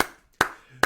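Three slow, deliberate hand claps spaced about four tenths of a second apart, each crisp and close with a short ringing decay and near silence between them.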